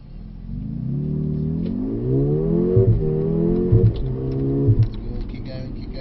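Mercedes-AMG A35 hatchback driving round a track at about 40-45 mph, steady engine note rising and shifting through gears, heard from inside the cabin with a continuous drone and brief bumps.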